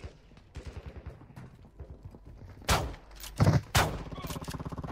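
Gunfire in the Call of Duty DMZ video game, with a few loud sharp bursts near the middle mixed among quieter rapid pops and game sounds.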